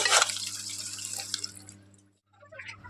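Mangoes are rinsed under running tap water, a close, splashing gush that fades and stops after about two seconds, followed by a brief pause and a few soft drips.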